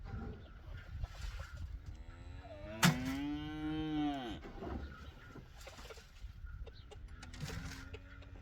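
Farm cows moo while waiting for grain: one long, loud, drawn-out moo stands out near the middle, with fainter lowing and bird calls around it in an outdoor morning farmyard.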